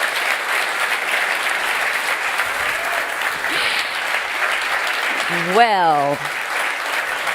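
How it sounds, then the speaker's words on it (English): Audience applause for drivers at the 2022 BWT Alpine F1 Team launch conference, a steady sustained clapping crowd, with a brief spoken word rising near the end. "Please applause for those incredible drivers."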